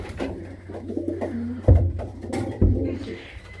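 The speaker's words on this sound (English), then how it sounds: "Still got pigeons on the roof, but they're going without food" Racing pigeons coo softly on a loft roof, low repeated burbling calls close by with a couple of brief thumps.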